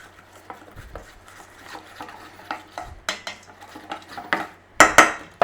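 Potato wedges are tossed with black pepper, salt and cornstarch in a bowl, giving a series of close scraping and clattering strokes of a utensil against the bowl, growing louder and sharper toward the end.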